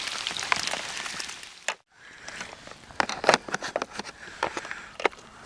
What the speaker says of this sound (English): we had a 5-minute break when that rain went over